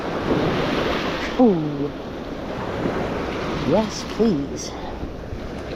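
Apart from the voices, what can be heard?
ocean waves on a beach while shelling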